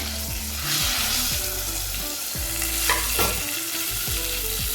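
White urad dal sizzles steadily in hot oil while a spoon stirs it, as the tempering for a South Indian tomato thokku cooks. The frying hiss is loud and continuous, with scraping stir sounds recurring throughout.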